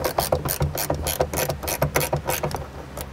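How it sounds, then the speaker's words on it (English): Box end ratcheting wrench tightening a bolt while installing Jeep JKU Rubicon side cubbies, a close, loud rapid series of clicking ratchet strokes in a steady rhythm, with no talk. "you can use an open end wrench or you can use a box end ratcheting wrench and tighten it"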